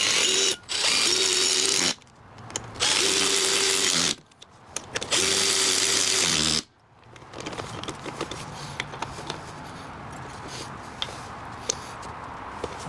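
A hand ratchet snugs down bolts on a chopper motorcycle, an Evo Sportster-based build, with repeated bursts of close, loud clicking separated by short pauses, then quieter handling noises and faint tool clatter.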